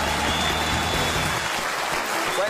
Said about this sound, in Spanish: Arley González Ríos, un aplauso para él